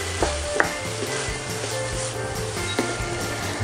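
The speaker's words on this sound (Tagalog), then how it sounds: "Hintayin lang natin maluto yung ating talong." Eggplant rings cooking in a pan give off a steady, close sizzle and crackle, with a few brief clinks and scrapes of a utensil scattered over the continuous frying hiss.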